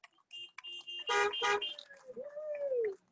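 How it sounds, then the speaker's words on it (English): Car horns honk from vehicles at an outdoor drive-in city event, several short and overlapping toots of differing pitch in a scattered burst, followed by a longer sustained horn tone. "Give them a round of applause or honk your horn"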